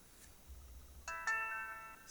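A mobile phone rings in a classroom during a math lesson, a brief electronic ringtone of bright repeating tones that starts about halfway through and keeps going, moderately loud over quiet room noise.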